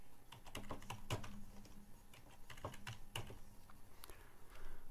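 A password is typed on a computer keyboard as a run of quiet, close key clicks in an irregular rhythm, with brief pauses between taps.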